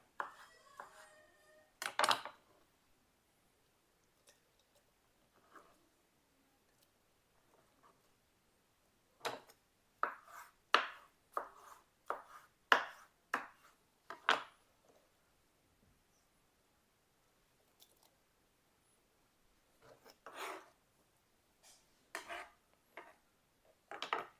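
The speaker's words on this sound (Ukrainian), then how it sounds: "Великими кусками нарізаємо гриби." A knife chops mushrooms into large pieces on a board, giving quiet, sharp knocks in loose clusters separated by stretches of near silence.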